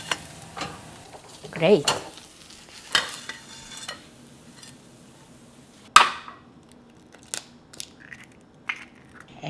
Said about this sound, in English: I'm reheating my Bindaetteok